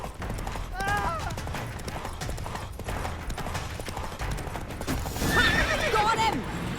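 Geralt's horse Roach in The Witcher 3 galloping with rapid hoofbeats while whinnying twice, near and loud, amid combat noise and voices talking.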